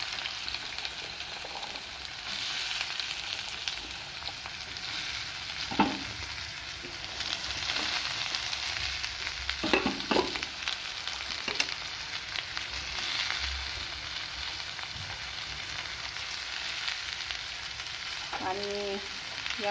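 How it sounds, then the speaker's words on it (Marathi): Bottle gourd fries in oil with cumin and mustard seeds, a continuous dense sizzle close up, broken by occasional spoon scrapes and knocks against the pan. "आणि जिरे आणि मोहरी घालत आहे. आणि यामध्ये मी हा भोपळा घालून घेते."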